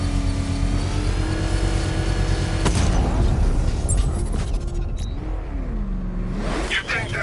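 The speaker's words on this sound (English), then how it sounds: "I can use the power winch to trigger a controlled explosion." A booming explosion, triggered with a power winch in Batman: Arkham Knight, bursts out partway through over loud, rumbling game sounds with engine-like drones and whooshes.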